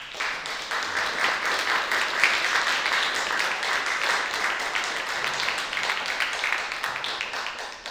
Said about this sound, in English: Let's give Jon a round of applause